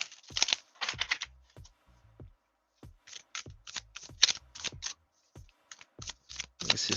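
Tarot cards being shuffled by hand in repeated quick bursts of riffling and flicking, close and fairly loud, with brief pauses between rounds and no talking.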